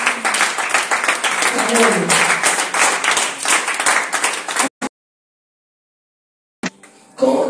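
A church congregation claps and applauds for Luana during a Friday service, loud and dense nearby for several seconds before cutting off, with a brief spoken word at the end.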